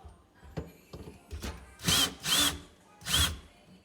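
A power drill whirs in several short bursts, starting with faint taps and building to three louder spins, close up.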